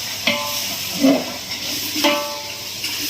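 Homemade ginger garlic paste fries in a pan during mutton biryani cooking, giving a steady hiss with scraping stirs at intervals and no talk over it.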